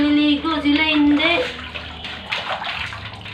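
Water sloshes and splashes in a child's bath while a voice rings out loudly over it at first, then softer splashing and trickling continue.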